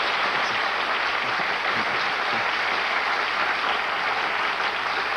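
Studio audience at a television variety show claps heartily, a continuous, even roar of applause held throughout without talk.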